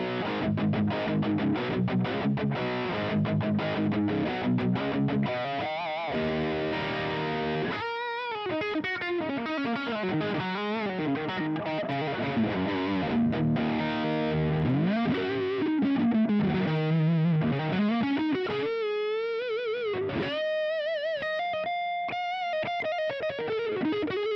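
Heavily distorted Gibson Tribute USA 2017 electric guitar plays a riff of chords and sliding bent notes, loud and continuous throughout with no voices.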